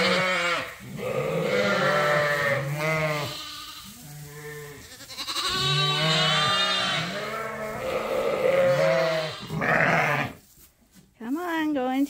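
Ewes bleat loudly and repeatedly while crowding feeders holding year-old leftover grain on a sheep farm, several overlapping calls close by with brief gaps between them.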